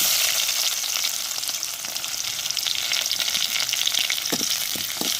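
Chopped onion and garlic fry in hot oil with mustard seeds and curry leaves, producing a loud, steady close-up sizzle with a few spatula scrapes near the end and no talking.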